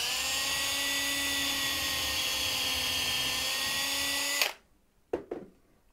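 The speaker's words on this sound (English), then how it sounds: "Dad's going to drill a hole in like this." A power drill whines steadily at high speed while drilling a hole in a wooden toy tractor, then stops abruptly, followed by two short bursts of the drill.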